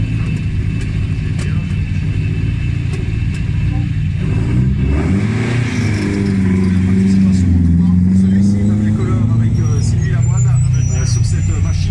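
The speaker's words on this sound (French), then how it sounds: "Deuxième Alfa Romeo Giulia Sprint en version GT" An Alfa Romeo Giulia Sprint GT classic car at the Tour Auto in Limoges rumbles loudly nearby, its engine revving and rising in pitch under a commentator's continuous talk.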